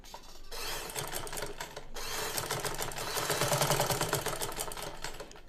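Close up, a sewing machine runs in two bursts of fast, even stitching along a cloth neckline, with a brief stop between them, and no voices are heard.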